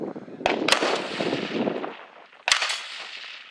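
Gunfire on a tower stage at a two-man shooting competition: a few loud, sharp reports, two close together near the start and another after a short pause, over a steady, noisy outdoor background.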